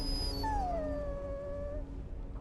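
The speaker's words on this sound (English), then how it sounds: "And shut that dog up," A dog howls in the Dragon Age: Origins video game, one long wavering howl that glides downward and fades, set against a steady low background hum with no talking.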